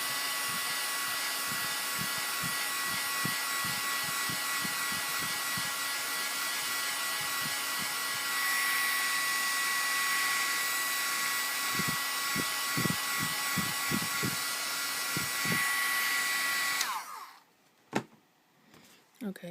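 Hair dryer blowing steadily to dry wet ink from a wedding-dress ink pad on paper, a continuous broadband whoosh with a faint tone, with soft bumps and clicks underneath, cutting off near the end.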